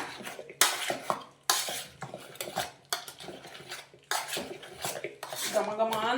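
Cooked carrot being mashed in milk inside a metal pot, with repeated scraping and clanking of a utensil against the pot in close, loud bursts.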